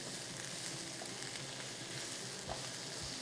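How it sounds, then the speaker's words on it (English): A salted vegetable mixture sizzles in a hot pan, a steady soft crackling hiss with a few small pops, fairly quiet and uninterrupted, with no talking. "Now it's sizzling nicely."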